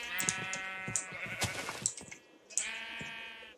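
A sheep in the video game Minecraft bleats several times, each call a wavering, nasal cry heard close up and alone, with short gaps between them.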